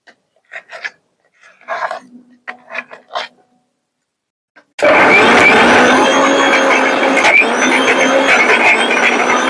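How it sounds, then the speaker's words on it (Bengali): A mixer grinder grinds soaked lentils into dal paste, starting abruptly after some quiet handling clatter and then running as a loud, steady motor whir for several seconds. "এই মিক্সিতে অল্প অল্প করে পেস্ট করে নিতে হবে এইভাবে আমি সব ডাল পেস্ট করে নেব"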